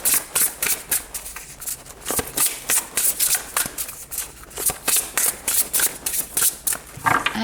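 Tarot cards are shuffled by hand in quick, crisp riffling bursts, close and loud, repeating in a steady rhythm with short gaps between shuffles.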